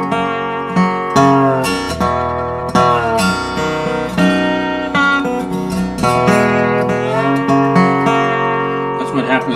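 A bowed string instrument played close to the bridge gives a bright, harmonically rich phrase with a slightly glassy edge, close and continuous, notes shifting in pitch.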